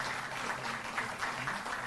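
An audience gives steady, rattling applause at an official event honouring contract workers made permanent, with even, sustained clapping throughout and slight swells near the end.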